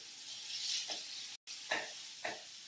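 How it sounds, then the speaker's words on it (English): Steady bright sizzle of leftover beef frying in a hot pan, with a few louder bursts as food is stirred or moved, no talking. "Just throw that in the pan. You hear it sizzling like that,"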